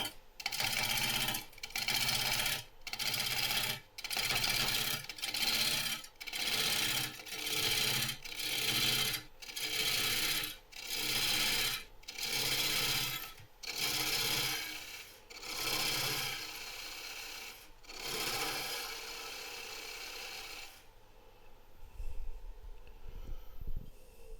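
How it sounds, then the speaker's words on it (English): Wood lathe spinning a bowl blank for a Janish-style bowl while a tool cuts notches, giving a loud rhythmic rasping that pulses in steady bursts about every second and a half, then stops and leaves faint room noise. "Now I'm going to turn up the speed of the lathe a little bit more."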